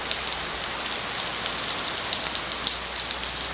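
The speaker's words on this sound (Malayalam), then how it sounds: "ഹെവി റെയിനാണ്." Heavy rain falls steadily onto surfaces in Alappuzha, a dense, continuous hiss of pouring water with scattered louder drops, close and unbroken for the whole stretch.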